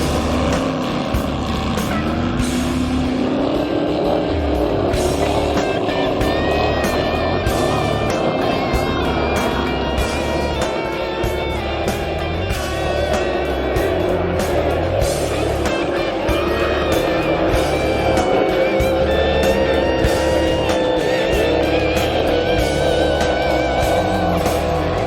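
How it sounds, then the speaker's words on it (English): Loud, continuous roar of five crackerbox racing boat engines lined up for a final race, steady and dense throughout with shifting pitch as they run. "5 remaining boats line up for today's final race."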